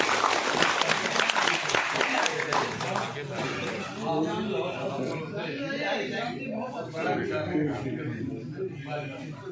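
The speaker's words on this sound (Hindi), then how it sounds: "एक इसके एवज में एक जोरदार ताली यदि हो जाए" Office staff at a section officer's retirement break into loud, rapid applause that fades after a few seconds into murmured chatter and talking voices.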